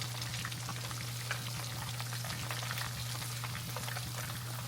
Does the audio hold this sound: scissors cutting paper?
no